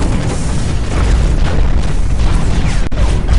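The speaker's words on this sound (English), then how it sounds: "My turret's shooting the shit out of him." Mech turret in the game Hawken firing in a steady, dense barrage of booming bursts, loud and continuous throughout, with one sharp crack near the end.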